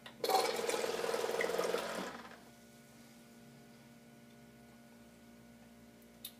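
A Beveo beverage dispenser pours a drink into a cup with a short, steady liquid stream for about two seconds, then stops, leaving a faint machine hum and a small click at the end.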